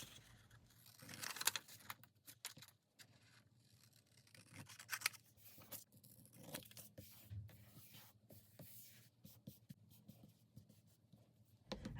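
Scissors cutting out paper images for junk journal ephemera, giving quiet, intermittent snips and rustling paper that come and go in irregular bursts, close by, with no talking.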